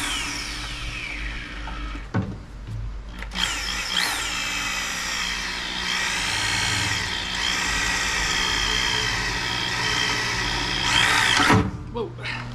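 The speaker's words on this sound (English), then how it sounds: "I'm gonna get that out of there and then try to drill a hole" A power drill whirs loudly and close for several seconds while drilling a hole in a Cat 304 mini excavator, its motor pitch rising and falling as it bores, with brief pauses between runs.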